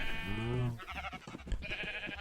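Sheep in the Minecraft video game give a single clear bleat, then gameplay sounds and faint background noise continue.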